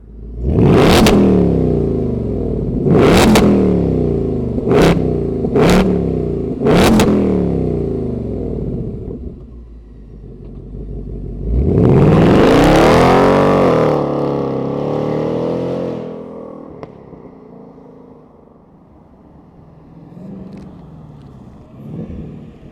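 A supercharged 2024 Ford Mustang GT engine revs hard several times in quick blips, then roars through a long rising rev before settling back to a deep, rumbling idle.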